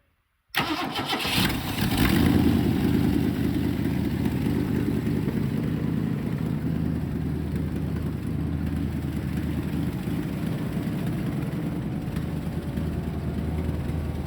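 An abandoned 1970 Ford Mustang V8 is cranked and fires within a moment after brief silence, then settles into a loud, steady, rumbling idle that holds for more than ten seconds.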